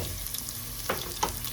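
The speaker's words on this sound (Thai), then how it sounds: "ข้อยก็ใส่น้ำมันบักพร้าวสวยสิคั่วกระเทียมน้อยหนึ่ง" Garlic frying in coconut oil in a pan, a steady low sizzle with a couple of brief stirring clatters, close up and with no talk.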